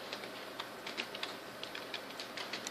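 Quiet, rapid tapping of keys on a computer keyboard while commands are entered into a router's command-line interface, faint irregular clicks with no talking.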